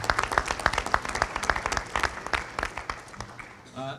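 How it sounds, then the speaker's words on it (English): Audience at a school board of education meeting applauding students and their families, close, brisk clapping from a modest crowd that tapers off near the end as a voice begins. "we just would like to acknowledge one more round of applause for each of the students and all of their families"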